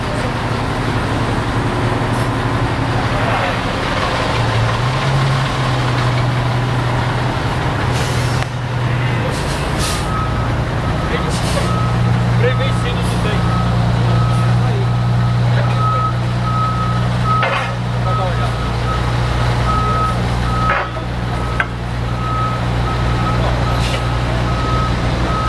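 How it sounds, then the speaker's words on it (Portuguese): Fire department water tanker truck idling with a steady low diesel rumble while a reversing alarm beeps repeatedly, with occasional air brake hisses and faint voices in the background. "Esse é o autotanque, ele é mais utilizado para incêndios"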